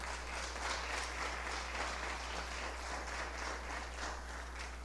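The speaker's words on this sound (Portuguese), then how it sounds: "Aplauda o Senhor mais uma vez." A church congregation breaks into sustained applause during a Portuguese-language communion service, the clapping dense and steady throughout with no speech over it.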